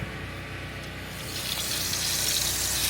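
A household tap in a newly built home runs after the water system is first pressurized, giving a steady hiss of flowing water that grows gradually stronger and fuller.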